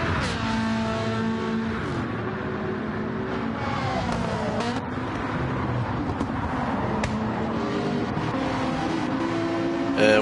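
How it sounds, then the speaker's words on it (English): Gr.3 race cars lapping Trial Mountain Circuit in Gran Turismo 7, engines rising and falling through gear shifts as cars accelerate and pass, loud and continuous, with a commentator talking over the roar. "But that is a pretty nice race car."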